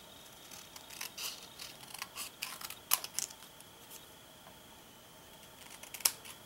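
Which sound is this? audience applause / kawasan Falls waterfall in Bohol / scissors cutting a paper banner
scissors cutting a paper banner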